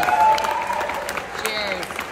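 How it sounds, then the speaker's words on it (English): Wedding guests break into brief applause for the Churney family during a reception speech, a short burst of clapping mixed with voices that peaks early and then eases off. "Round of applause for the Churneys."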